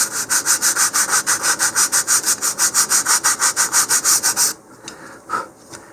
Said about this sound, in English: I need a little bit more sanding on this side.